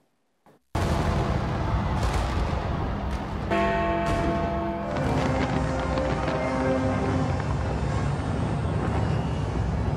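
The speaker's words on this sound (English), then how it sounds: "Fireworks, dance and music set the mood." Fireworks at New Year celebrations, starting abruptly after a brief near-silence and then a dense, continuous barrage of booming bursts and crackles, with whistling rising tones partway through, loud and sustained.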